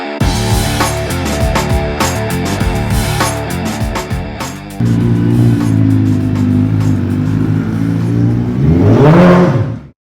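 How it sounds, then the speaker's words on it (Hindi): A second-generation Suzuki Hayabusa motorcycle engine revs hard close by, harmonic roar climbing and falling through repeated blips, then a long sustained rev rising to a peak before cutting off abruptly. "So boys, this is the second generation Suzuki Hayabusa."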